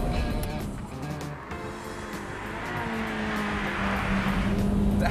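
A Ferrari 355 driving on a test track, its engine a steady loud drone that rises in pitch toward the end, with no one talking.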